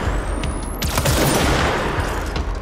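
Grenade launcher fire in the video game Control, a loud burst of booming explosions and rapid gunfire that swells and then rumbles on steadily.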